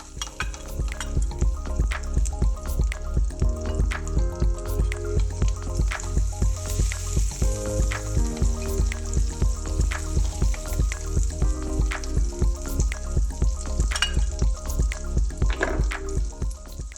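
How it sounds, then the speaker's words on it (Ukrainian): Butter sizzles in a heated frying pan ahead of cooking apple kefir pancakes, a steady crackling fry with a regular pulsing rhythm under faint background hum, continuous and close. "Розігріваємо пательню з вершковим маслом."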